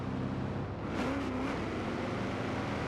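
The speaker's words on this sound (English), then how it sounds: "So we're just cruising in a Chevy SS, no big deal." Chevy SS engine cruising steadily in the racing game Forza Horizon 3, a continuous mid-level drone with a faint pitch rise and whoosh about a second in, heard alone.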